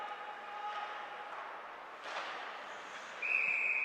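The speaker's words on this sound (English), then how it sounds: "And get a whistle." Near the end of a stretch of rink crowd noise at a college ice hockey game, a referee's whistle gives one sharp, sustained shrill blast that stands clearly above the arena murmur.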